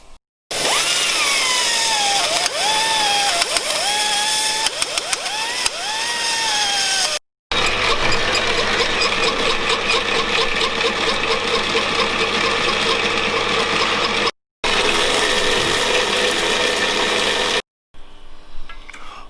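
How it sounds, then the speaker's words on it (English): Die grinder hacking out the holes of a flex plate in a garage driveline mock-up: loud, continuous high whine that wavers in pitch under load, cut by two brief pauses. "So we'll get the die grinder out, we'll hack a bit of that out"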